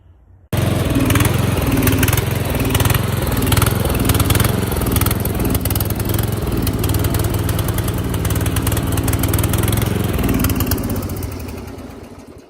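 An Ariens YT12 riding mower's engine runs loud and close with a steady rough drone, starting abruptly and holding even before fading out near the end, with no talking over it.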